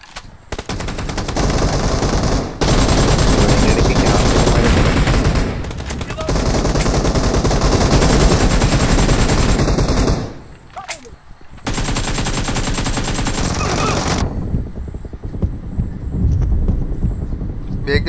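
Rapid automatic gunfire from the battle-royale game BGMI rattles in long, dense bursts with brief pauses between, loud and close, with occasional single shots, while a player talks over the action.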